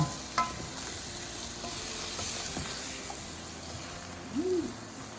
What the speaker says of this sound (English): Let's stir it back up again.